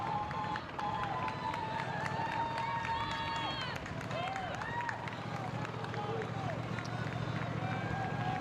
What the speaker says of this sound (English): you can hear the crowd starting to rise in volume as our lead woman does begin to enter those final few K